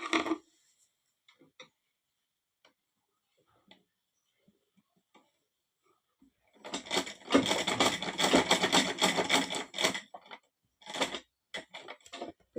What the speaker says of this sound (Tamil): மடிச்சுட்டு இப்போ இதில் தைக்கணும்